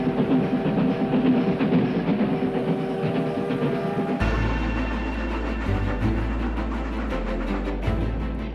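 A train travelling on rails through the interior of Brazil from Rio de Janeiro, a steady rumbling roll with rhythmic clickety-clack that grows heavier and lower about halfway through, continuous and fairly close, with no voices.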